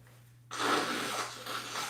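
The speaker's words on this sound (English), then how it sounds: "I gotta blow my nose." A person with a congested nose blows it once in a loud, sustained, breathy burst that starts abruptly, close to the microphone, over a faint low hum.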